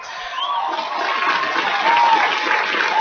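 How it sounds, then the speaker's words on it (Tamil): Loud applause and cheering from a crowd welcoming a guest onto the stage of a Tamil election-themed song show, a dense, rising wash of clapping with some shouts and faint whistles. "பலத்த கரகோஷத்தோடு சிவாஜி லிங்கம் அவர்களை மேடைக்கு அழைத்து வாருங்கள்"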